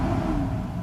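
Mercedes S600 W140 V12 engine after a throttle body overhaul, revving briefly from a light tap on the pedal, a steady low rumbling drone close by with no talk.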